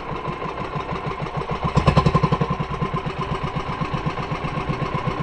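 A fishing boat's engine idles close by at sea, a steady loud mid-pitched chugging with even rapid pulses throughout, briefly swelling in the middle before settling back to a regular throb.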